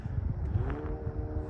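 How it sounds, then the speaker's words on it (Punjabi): A motorbike passes by outdoors near a snowy downtown river, its engine note rising briefly at moderate distance over a low rumble of background traffic; no talking. "ਦੇਖੋ ਬਾਈਕ ਦੀ ਆਵਾਜ਼ ਆ ਰਹੀ ਕੋਈ ਜਾ ਰਿਹਾ ਬਾਈਕ ਤੇ"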